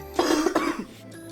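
A short burst of harsh coughing, two or three rough hacks close up, fading into quiet breathing.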